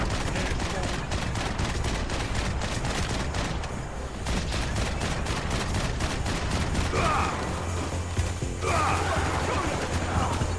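Rapid bursts of video game gunfire from Max Payne 3 fill the clip, dense volleys crackling nearly nonstop over a loud battle din with some faint voices mixed in.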